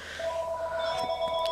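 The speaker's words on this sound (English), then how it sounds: "And there's the phone call." A telephone rings with steady electronic tones, a mid-pitched note joined by a higher one, fairly clear against a faint background hum, with no talking.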